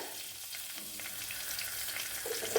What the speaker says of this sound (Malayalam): 1/2 ടീസ്പൂണാണ് ഉലുവ ഇട്ട് കൊടുത്തത്. അതൊന്ന് മൂത്ത് വരണം.